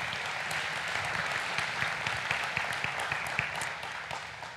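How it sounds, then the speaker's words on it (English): A church congregation applauds steadily for several seconds, giving a dense, even patter of clapping from many people that tapers slightly at the end. "Will y'all give Tammy and Micah a big round of applause?"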